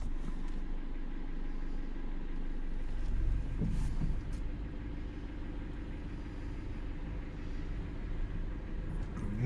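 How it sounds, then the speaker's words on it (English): A car coasts in neutral up the slope at Gravity Hill in Sonoma County, heard from inside as a steady low rumble of tyres and road with faint engine hum and a brief bump partway through, and no talk. "We're literally rolling uphill."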